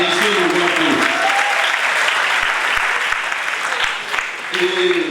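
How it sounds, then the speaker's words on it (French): Guests at a wedding ceremony applaud a man honoured as king, dense, continuous clapping that stays loud and even for several seconds, with some voices mixed in. "Applaudissez le roi"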